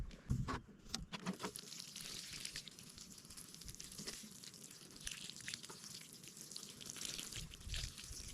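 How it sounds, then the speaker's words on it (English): Water pours and patters onto soil around newly planted garden plants, a soft hissing spray with scattered drips and splashes, quiet and close, with a few louder splashes near the start. "All right, so I watered them all in"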